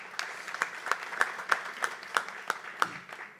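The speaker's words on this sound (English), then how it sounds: "If we could please give them a round of applause." Applause for board members at an auctioneers' conference and AGM, with sharp, evenly spaced claps standing out above a thinner spread of clapping from the audience, moderately distant in a large hall.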